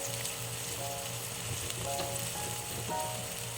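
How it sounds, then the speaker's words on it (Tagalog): Flat beans go into a pan of beef and softened tomato and sizzle in a constant close hiss, with faint clinks and light stirring noises over it and no talking. "ilagay na po natin yung flat beans"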